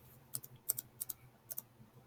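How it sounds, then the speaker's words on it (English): Keys tapped on a computer keyboard while entering a math expression into a graphing calculator, a few light clicks in small irregular clusters, close and quiet with no talking. "I'm going to go back to Desmos and I'm going to type that in."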